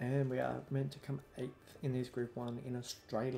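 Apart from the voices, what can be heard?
None of the usual background noises is heard.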